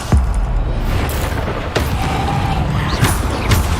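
A Bombarda spell in Hogwarts Legacy detonates with a loud, booming blast. It sits inside a dense, constant wash of game combat noise, with a few sharp thuds and impacts scattered through it.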